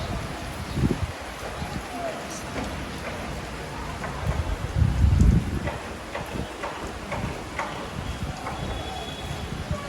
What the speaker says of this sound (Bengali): বাবা সকাল থেকে বৃষ্টি হইতেছে